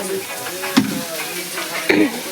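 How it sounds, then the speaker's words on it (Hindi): Chowmein stir-frying in a wok at a village shop, a steady sizzle punctuated by two sharp metal scraping stirs, close and fairly loud, with no talking. "गाइस अभी यहाँ पर हमारे लिए बन रहा है चाउमीन।"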